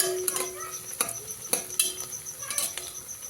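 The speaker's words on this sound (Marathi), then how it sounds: "आता मिरच्या थोड्याशा हे होईपर्यंत हलवून घेऊया." Green chillies sizzle with browned fried onions in a pan for chicken biryani, a constant frying hiss broken by repeated sharp scrapes and clicks of a stirring spoon against the pan.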